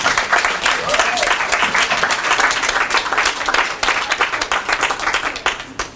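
Audience applause at a singing contest award ceremony honoring the first-prize winner of a song creation category, dense, steady clapping filling the whole stretch at close range.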